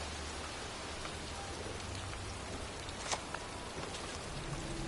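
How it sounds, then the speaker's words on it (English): Steady, even rain pours down through a cold, wet night-time cemetery scene in the video game Heavy Rain, a dense hiss with a few brief louder spatters, and no one talks. "It's cold. It's raining."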